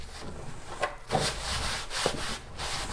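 Light scrubbing on a Cricut cutting mat to lift gunk and vinyl scraps, soft rasping strokes in an uneven back-and-forth rhythm, close and fairly quiet with no talking.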